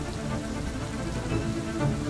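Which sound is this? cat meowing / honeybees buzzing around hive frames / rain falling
rain falling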